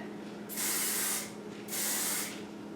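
Two long hissing bursts of hairspray from an aerosol can, each lasting under a second, separated by a brief pause, close and fairly loud.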